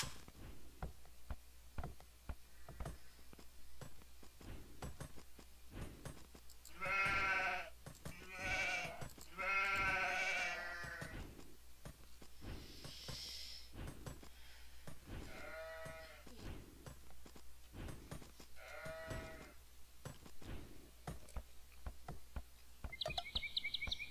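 Sheep bleating in the strategy video game Age of Empires II, several wavering bleats spaced a few seconds apart over a quiet game background with soft clicks and a closing chime.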